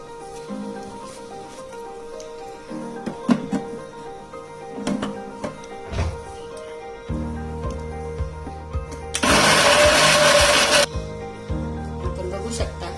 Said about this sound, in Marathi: आता हा अर्धी वाटी गूळ आणि 1 वाटी 3-4 फोडी डांगराच्या हे आपण मिक्सर मधून बारीक करून घेणार